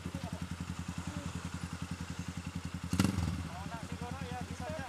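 A motorcycle engine idles close by with a fast, even chugging pulse, briefly rising with a louder burst midway before settling back, while people talk over it.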